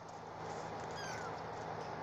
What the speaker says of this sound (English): She's a Siamese, partial Siamese kitty.